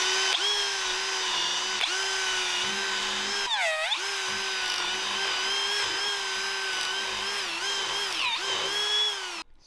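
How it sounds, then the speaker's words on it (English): An old 1/4-inch drill bit bores a series of holes through a rubber bushing on a Trail Master MB200 frame, a steady, close whining drill that briefly dips and stalls twice before spinning back up. "you take a 1/4-inch drill bit, like an old one, you're going to drill a bunch of holes to break this rubber membrane"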